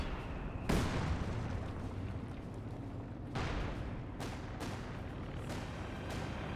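Distant video game artillery booms land in a rumbling battle soundscape in Company of Heroes, several heavy impacts spaced a second or so apart over a constant low roar.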